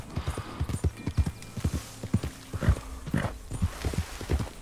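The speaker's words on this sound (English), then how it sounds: "let's try to go to the horse." Horse hooves in Red Dead Redemption 2, a steady run of clip-clop steps on hard ground, fairly close, with a brief whinny-like sound partway through.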